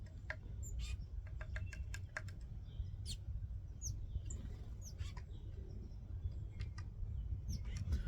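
Small birds chirp and call repeatedly around a backyard feeder by a deck, including a tufted titmouse, short bright notes scattered throughout over a steady low outdoor hum.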